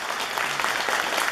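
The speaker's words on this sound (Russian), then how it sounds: "Ваши аплодисменты, Роза!" An audience claps in a steady, full wash of applause.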